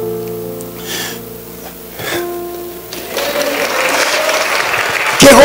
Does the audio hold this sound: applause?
yes